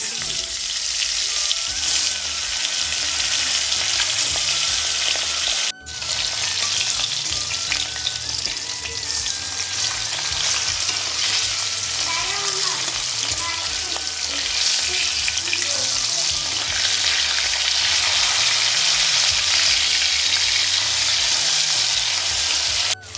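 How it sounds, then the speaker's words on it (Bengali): Steady loud sizzling of fish frying in hot mustard oil in a wok, continuous crackle throughout with a brief sharp knock partway through. "তেল গরম হয়ে গেছে এবার একে একে মাছ"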